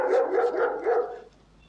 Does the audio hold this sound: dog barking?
yes